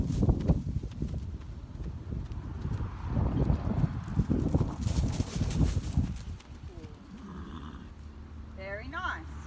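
A mare's hooves clip-clopping on the ground as she circles during groundwork training, uneven rhythmic footfalls close by, with people talking over them and a bird calling near the end.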